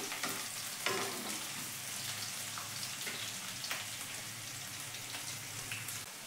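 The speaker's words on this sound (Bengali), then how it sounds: "পেঁয়াজটা হালকা ভেজে নেব।" Finely chopped onion fries in oil with a steady, rain-like crackling sizzle, close and constant, with a few louder pops and stirring scrapes and no talking.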